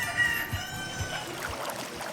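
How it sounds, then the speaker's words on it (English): Chickens kept on a school campus cluck softly in short, scattered bursts, close by, over a faint steady outdoor hum. "I'm gonna show you guys our little chickens that we have here on campus."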